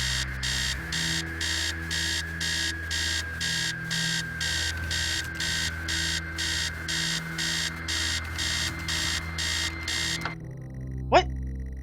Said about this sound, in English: That alarm noise is highly irritating